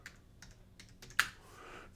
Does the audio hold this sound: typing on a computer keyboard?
yes